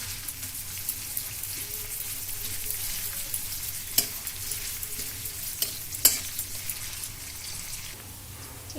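Onions frying slowly in oil on low heat for white polao, a soft steady sizzle with a few sharp clicks and scrapes of a utensil, fairly quiet and continuous with no talking.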